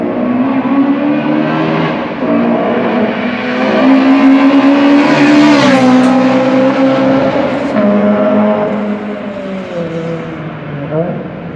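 A Honda Integra Type R DC2 with a decat and Magnaflow sports exhaust revs loudly and continuously nearby, its engine note climbing and falling over several seconds.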